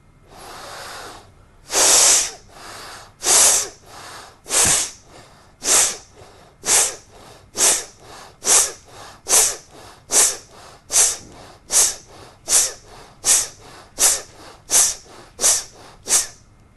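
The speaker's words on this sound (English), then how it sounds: "This is the method of practicing fast and deep breathing." A person does a fast, deep breathing exercise, eyes closed, with a rapid run of forceful nasal breaths, each loud and sharp. The breaths start with a few heavy strokes and settle into a steady, quick rhythm close to the listener, with no talking.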